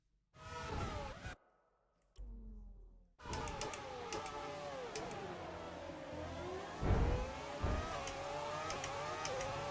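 F1 car engine running in the F1 2020 video game with the engine feeling wrong, a high revving whine that cuts out briefly, then returns as a sustained rising and falling drone with whooshing passes.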